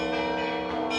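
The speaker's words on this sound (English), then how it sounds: "So from where you can hear how they ring the bells." Church bells ring at the Novodevichy Convent bell tower in Moscow, with a sustained, layered metallic ringing that fills the brief moment, heard clearly and without talk.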